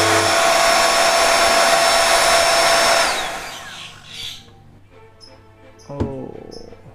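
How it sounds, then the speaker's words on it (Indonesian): Electric blower runs with a loud steady whir, then winds down and fades after about three seconds, followed by faint rattles and a sharp knock near the end, used to test an electronic kite sounder. "saya akan nyalakan blowernya."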